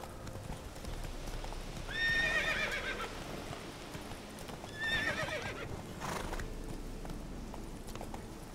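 Roach, the horse in the Witcher 3 video game, gives two high neighing whinnies a few seconds apart over steady clip-clopping hooves, moderately close with a faint low background.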